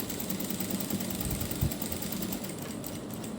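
Sewing machine stitching a boat neck blouse, a quiet, continuous, fast mechanical whir with a steady needle rhythm, heard alone.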